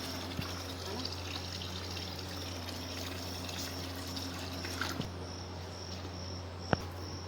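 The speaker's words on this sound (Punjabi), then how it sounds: "ਲੱਗਦਾ ਹੈ ਪਾਣੀ ਦੀ ਆਵਾਜ਼ ਸੁਣ ਕੇ ਆਊਗੀ" Water pours steadily and continuously outdoors, a close, unbroken rushing wash with a faint insect-like whine and crickets in the background; no one speaks.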